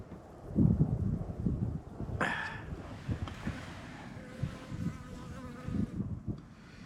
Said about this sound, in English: Oh, there's a bee right there.